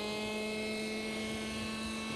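Radio-controlled model helicopter hovering and turning, a steady high-pitched engine whine with a constant tonal drone and no variation in level, heard alone at moderate distance.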